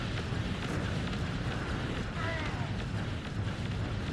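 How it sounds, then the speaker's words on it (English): Explosions blast the engines of an X-Wing fighter ship in a video game, making a continuous loud, rumbling roar of blasts that barely lets up. "now let's blast those engines"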